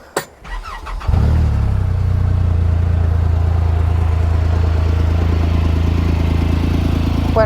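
A Polaris Ranger 1500 Extreme Duty side-by-side cranks briefly and fires up near one second, then settles into a steady, loud, close idle with a low rumble that holds unchanged to the end; no one speaks.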